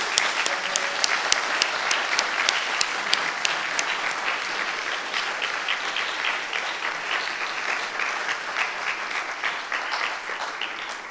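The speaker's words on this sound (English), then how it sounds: "Give him a round of applause." A charity concert audience breaks into sustained applause, dense and loud, with sharp individual claps standing out early before the clapping settles into an even roll; no talk over it.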